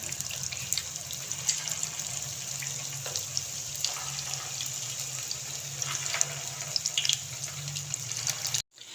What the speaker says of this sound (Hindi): मैंने काफ़ी सारे कोफ्ते इसके अंदर फ्राई होने के लिए डाल दिए हैं।